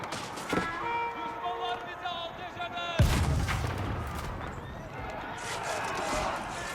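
Heavy Great Bombard cannons boom during a siege in Age of Empires IV, with a deep blast midway cutting through battle noise, hoofbeats and someone talking over the action.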